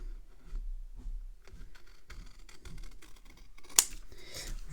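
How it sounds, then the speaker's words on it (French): Scissors snip through paper while a pennant-shaped card is cut out: soft, close, irregular clicks and slicing strokes, faint and quiet, ending in a couple of sharper snips. "Et on vient découper."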